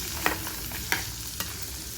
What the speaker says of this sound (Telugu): నెక్స్ట్ ఒక 1 మినిట్ అలా వేయించేసుకొని స్టవ్ ఆపుకోవాలి.